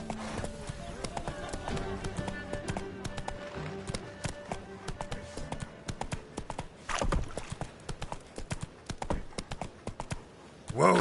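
A horse named Roach clip-clopping, its hoof strikes forming a steady, fairly close rhythm with a brief louder burst near the end. Spoken words can be heard alongside the hoofbeats.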